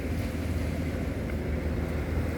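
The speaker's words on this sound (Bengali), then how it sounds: "ও আটলান্টিক মহাসাগর বইতে পড়েছিলাম, এখন সচক্ষে সামনে দাঁড়িয়ে আছি।" Atlantic Ocean waves wash onto a beach on Tenerife, a steady, unbroken roar of surf mixed with wind rumble, close and constant with no voices.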